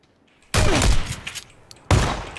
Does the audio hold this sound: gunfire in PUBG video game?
yes